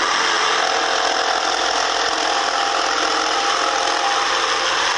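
Electric jigsaw cutting through a workpiece, a steady, loud, buzzing mechanical whine held continuously without pause, close by and alone with no talk.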